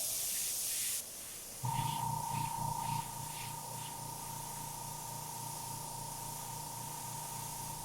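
An airbrush sprays paint through a hand stencil with a steady close hiss, broken briefly at first, then joined by a sustained tone and a low buzzing hum that continues steadily to the end.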